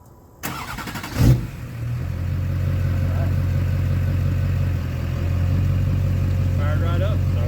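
A truck engine cranks briefly after a fuel filter replacement, catches and starts, then settles into a steady, rumbling idle close by.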